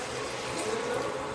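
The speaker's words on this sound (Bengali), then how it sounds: "এখন দিয়ে দেবো জল।" Water is poured into a pan of egg curry cooked with green chilli and ginger paste, a brief steady rushing splash heard close up and alone.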